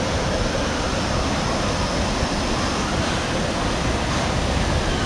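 Floodwater in a river at Ruidoso, New Mexico, churns as a loud, steady roar of rushing water, filling the scene with dense, continuous noise and no other sounds breaking through.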